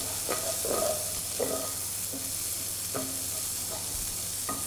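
Leeks frying in a pan sizzle steadily while a spoon stirs them, scraping and knocking against the pan several times at uneven intervals, close up with no talking.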